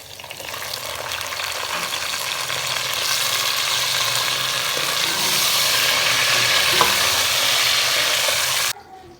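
A large tomato hits browned onions frying in a pan, giving a loud, steady sizzle that holds for several seconds before cutting off.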